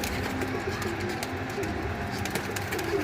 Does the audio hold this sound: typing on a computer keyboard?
no